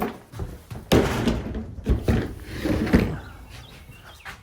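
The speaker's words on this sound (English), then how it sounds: "The door keeps swinging on me." A wooden shed door in a converted carport swinging and knocking, several sharp bangs and thuds at uneven intervals, loud and close, without speech.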